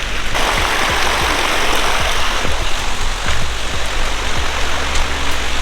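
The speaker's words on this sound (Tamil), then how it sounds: "சைடில் ஃபுல்லாக தண்ணி ஓடிட்டு பாரு." A water stream runs beside a trekking trail near Aare Falls in Nagalapuram, a continuous close rushing and splashing that fills the whole clip with no talk.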